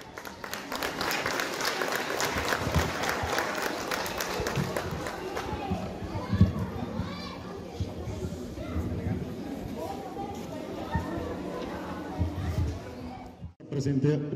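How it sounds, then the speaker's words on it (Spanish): Audience applause and crowd noise fill a school end-of-year closing ceremony, honoring a teacher; steady clapping and chatter run throughout, with voices mixed in and a brief dip near the end. "Que se escuchen los aplausos también para él."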